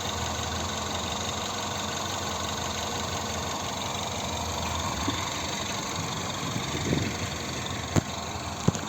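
A 2011 Peugeot 5008 with a 1.6 petrol engine and automatic gearbox idles steadily up close, a continuous even hum with a few faint clicks and taps near the end, no talking.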